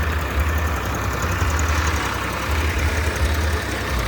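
A New Holland 3630 tractor engine idles steadily nearby, a continuous low diesel rumble with a faint rhythmic knock, running alone without any voices.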